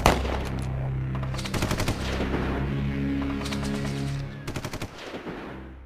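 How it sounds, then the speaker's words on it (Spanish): Bursts of rapid automatic gunfire rattle over a low, steady rumble, with several separate volleys and a few heavier single shots. "empecé a escuchar disparos"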